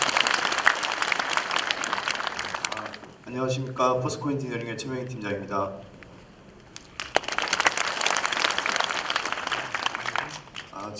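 Audience applause at a residents' meeting on the Daegu military-civilian airport relocation, loud clapping at first, breaking off while a man introduces himself, then swelling back to full clapping.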